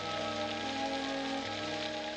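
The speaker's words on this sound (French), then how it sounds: "Il pleut." Steady cartoon rain falls in a continuous even patter throughout, close and fairly loud with a faint musical tone underneath, in a Smurfs animated scene on carnival day.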